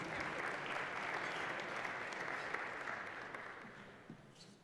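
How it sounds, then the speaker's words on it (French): Audience applause at the opening of a fintech event in Bordeaux, welcoming the host to the venue; dense, steady clapping from a crowd that fades slightly toward the end, with no talking over it. "je vous remercie d'applaudir Philippe"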